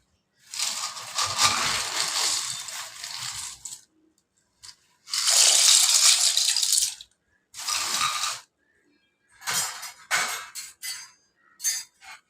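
Two cups of dry macaroni poured into a pot of water: several loud, rattling, gritty bursts separated by short silences, ending in a few quick, choppy spills.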